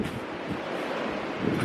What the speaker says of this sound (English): Did you guys hear how windy it is?